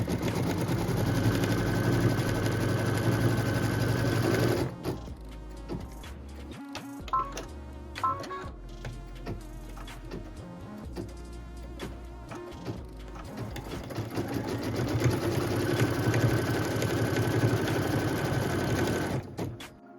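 Sewing machine stitching the final tack-down and cut line on a quilt block, a steady close mechanical whirr of rapid needle strokes, pausing briefly in the middle before running again.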